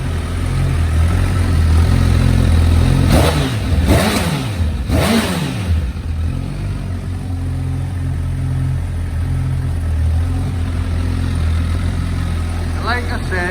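A Honda CB1000 Hornet motorcycle engine with standard exhaust idles with a steady low burble, then three sharp throttle blips rev up and fall back before it settles into idle again.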